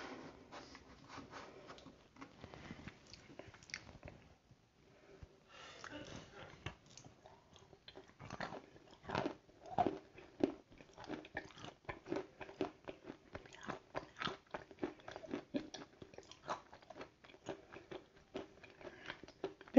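Wet, crunchy chewing and biting from ASMR mukbang eating, heard up close as a dense run of small crisp crunches after a brief pause near the start.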